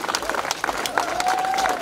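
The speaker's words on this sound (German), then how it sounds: "Ein großer Applaus an den Jahn Spielmannszug." A festival crowd applauds the Jahn Spielmannszug marching band at the opening of the Annafest in Forchheim, a steady wash of clapping with a whistle and scattered voices mixed in.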